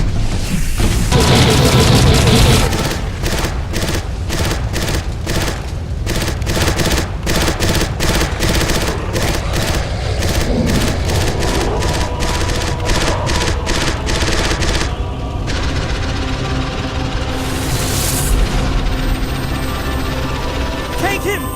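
Gunfire and explosions in Too Human: dense bursts of rapid machine-gun fire and booms crowd the whole span loudly, with brief gaps and a distant whoosh near the end.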